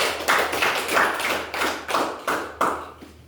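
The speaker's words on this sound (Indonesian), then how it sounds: "Tepuk tangan untuk kelompok Yuni." A classroom of students claps for a student group in a rhythmic pattern, about eight distinct sharp bursts in quick succession, close and fairly loud.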